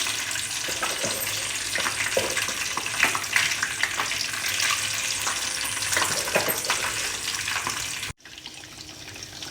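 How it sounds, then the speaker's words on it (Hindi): Pieces of fish fry in hot oil with a dense, continuous sizzle and crackle, close and loud, cut by a brief near-silent break before the frying resumes; no one speaks. "अब मैं इसमें फ़िश डालती हूँ और इसको फ्राई करती हूँ।"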